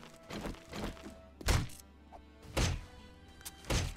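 Zombies in 7 Days To Die smash through objects nearby, giving three or four heavy, booming thuds spaced a second or so apart over quiet game ambience.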